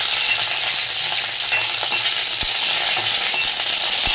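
Curry leaves sizzling in hot oil with mustard seeds while making oats, a loud dense crackling hiss that stays steady throughout, close up with no talking.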